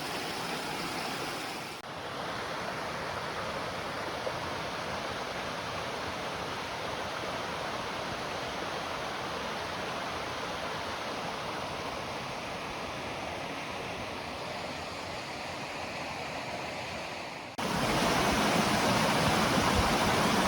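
Red Creek flows steadily along a hiking trail in Dolly Sods, a continuous broadband rushing of water heard up close for about twenty seconds, with the sound shifting and growing slightly louder near the end.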